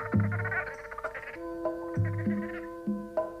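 Cartoon frogs croak in a dubbed animated series, several short low throaty croaks sounding in an uneven rhythm over a background musical tone, close and moderately loud with no talking.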